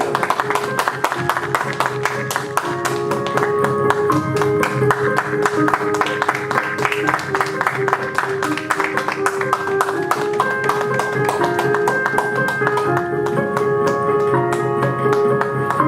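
Audience clapping after a performance of The Tempest, a dense, steady burst of many hands applauding continuously, loud and sustained throughout.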